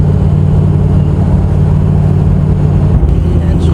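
A vehicle engine downshifting with its torque converter locked in fifth gear, a loud, steady low-pitched drone that shifts slightly near the end, heard from inside the cab with someone talking over it.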